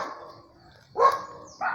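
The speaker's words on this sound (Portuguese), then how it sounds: "tem um cachorro latindo aqui" A dog barks at a campsite in a forest, with a few short loud barks coming in bursts, fairly near, against a quiet background.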